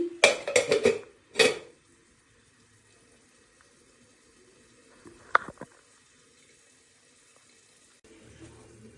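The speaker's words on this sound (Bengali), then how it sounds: "এভাবে ঢাকনা দিয়ে দেব, এভাবে ঢাকনা দিয়ে দিচ্ছি।" A lid set onto a cooking pot of mutton kosha, with a burst of rattling metal clatters at the start, a long quiet stretch, then a single sharp clink and a faint rustle near the end.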